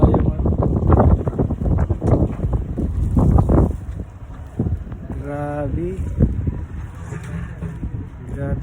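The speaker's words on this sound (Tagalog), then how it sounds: "grabe yung hangin dito. Diba? Grabe yung hangin." Gusty winter storm wind buffets the microphone with low rumbling bursts while people talk nearby outdoors in Canada, the roar easing somewhat in the second half.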